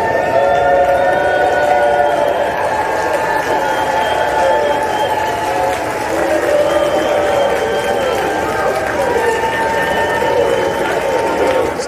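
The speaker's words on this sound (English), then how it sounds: "here's Congress waving Ukrainian flags and chanting Ukraine" Members of Congress in the chamber chant "Ukraine" and cheer while waving flags, a loud, sustained crowd roar with rhythmic massed voices holding steady throughout.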